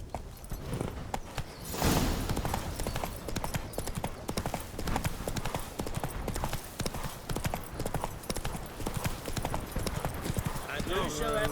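A horse galloping in The Witcher 3 video game, rapid rhythmic clip-clop of hooves running steadily throughout, with a brief whinny and in-game speech heard over the hoofbeats.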